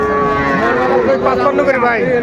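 At Ambari cattle market, a small bull calf lets out a long, loud, nearby lowing call that bends in pitch, with murmuring voices of the crowd faintly underneath.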